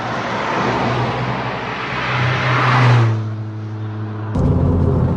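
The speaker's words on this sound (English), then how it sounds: "there's quite a lot of wind noise actually at this speed as well" Broadband wind roar and road rush fill the cabin of a Ford Fiesta ST Mk5 ST150 cruising at speed in a gear without a sixth, a steady drone under engine hum that eases off, then swells again.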